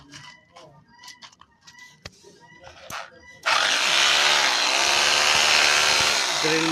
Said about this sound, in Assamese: ড্ৰিল মেচিন চলাইছোঁ ড্ৰিল মেচিন চলিছে